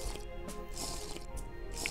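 Water from melting snow in the game TerraFirmaCraft, heard as a series of soft, wet drips and squishy splashes at an uneven rhythm, close and fairly quiet, without voices.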